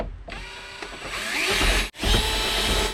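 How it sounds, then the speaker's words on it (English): A regular power drill bores a small pilot hole into the broken dash of a 1992–96 Ford F-150, running in two close, steady whirring bursts with a brief stop between them. "use the regular drill."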